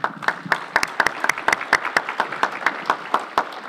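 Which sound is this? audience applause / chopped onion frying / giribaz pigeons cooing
audience applause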